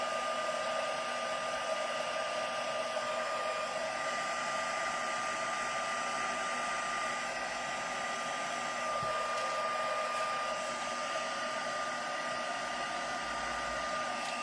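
Steady, loud whirring roar of a heat tool held on a craft card to heat-set wet embossing liquid for a floral thank-you card, running unbroken and close throughout with no talk.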